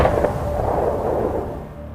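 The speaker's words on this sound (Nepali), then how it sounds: "गोली चलेको आवाज सुनिन्छ" Police open fire on protesters marching near the parliament building in Baneshwar, Kathmandu, a sharp report opening a short burst of echoing blasts that decays into a fading rumble, with no voices.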